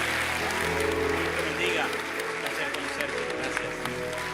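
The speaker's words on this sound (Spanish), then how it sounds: "Fuertes aplausos a nuestro Dios." Church congregation applauding in a large worship hall, a steady wash of clapping mixed with crowd murmur and sustained background tones, fairly loud throughout.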